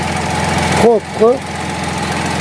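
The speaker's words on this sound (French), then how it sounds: "voilà ce fameux moteur de 1 litre 70 chevaux sans assistance du moteur électrique" A 1-litre 70 hp Fiat Panda Hybrid engine from 2024 idles steadily and fairly quietly without electric assistance, a constant low hum running throughout while a person speaks briefly over it.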